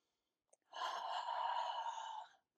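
A single long, deep yoga breath during a Katonah Yoga practice, a soft breathy exhale about a second and a half long, close and gentle, with no talking over it.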